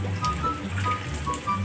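Rain falls steadily outdoors around an inflatable pool, a close, full spatter of drops on water and plastic that holds even without speech.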